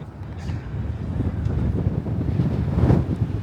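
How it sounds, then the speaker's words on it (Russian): Steady low rumbling gusts of wind buffeting the microphone, loud and continuous throughout with no voices. "Вот ветер."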